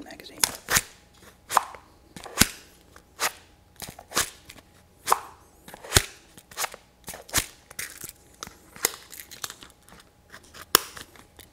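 Fingers tap on leather tactical holsters holding magazines, giving a steady series of crisp, close taps and knocks with slight leathery crunch, spaced about every half second with a faint background hum.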